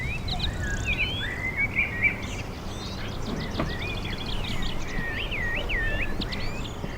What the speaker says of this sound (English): we hear a lot of birds, especially in the spring